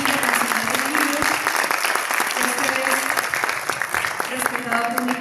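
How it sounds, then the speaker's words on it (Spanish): Warm applause from an audience at a book presentation honoring author Esteban Valdés, brisk and continuous clapping up close, with voices murmuring underneath throughout. "Así que yo les pido un fuerte aplauso para Esteban, para la Confederación Internacional de Libros"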